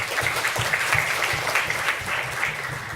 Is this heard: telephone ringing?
no